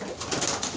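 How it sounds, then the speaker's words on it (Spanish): Pigeons coo softly in a loft, a short burst of low, throaty bird calls close by. "Arriba, 8 palomas en cada lado, vamos."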